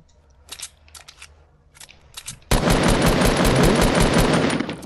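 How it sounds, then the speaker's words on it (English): Fortnite gunfire during a squad match: a few sparse, clicky single shots at first, then a sudden loud, sustained burst of rapid automatic fire lasting several seconds. "Keep shooting that one."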